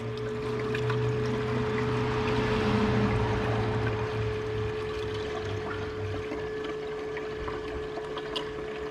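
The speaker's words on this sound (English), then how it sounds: "This thing is moving a lot of water." An upgraded pump on a 700+ rwhp Cadillac CTS-V moves water in a steady, rushing gush with a constant mechanical hum beneath, close and unbroken throughout.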